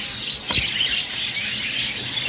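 Short calls and squawks from Australian doves at a bird market in Dohar, Bangladesh, one sharp burst then lighter chirps, close by with a steady background hiss.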